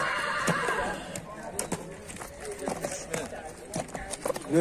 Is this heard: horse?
yes